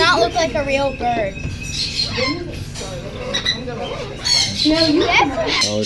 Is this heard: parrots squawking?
yes